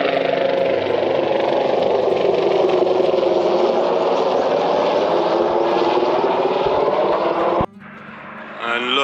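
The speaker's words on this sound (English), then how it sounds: "and a helicopter." A helicopter roars loudly overhead with steady rotor and engine noise, shifting pitch as it passes, then cuts off abruptly near the end.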